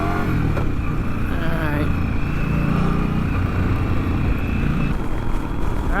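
Indian Scout Rogue motorcycle engine pulling hard onto a freeway, a loud steady roar with rising and shifting pitch against constant wind rush, while a rider's voice briefly speaks over it.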